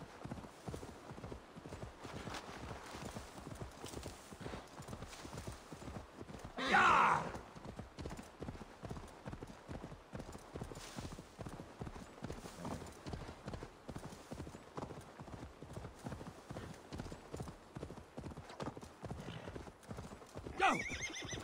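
Horse hooves clip-clop in a steady, close rhythm through Assassin's Creed Valhalla, with a loud neigh rising partway through and a brief whinny near the end, while a person talks faintly underneath.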